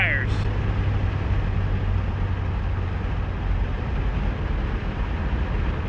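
A stock Chevrolet El Camino launches with its tires spinning, making a steady, loud, continuous roar of engine and wheelspin that holds without a break.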